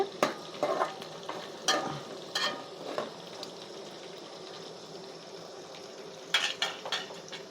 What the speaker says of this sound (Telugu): ఇప్పుడు ఉల్లిగడ్డలు మిరపకాయలు వేసేసేస్తాను మనకైతే ఉల్లిగడ్డలు అయితే ఫ్రై అయినాయండి